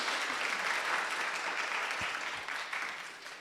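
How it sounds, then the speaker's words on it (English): Audience at a design panel event giving a round of applause, a steady dense patter of clapping that fades slightly toward the end. "Let's give our panelists a round of applause,"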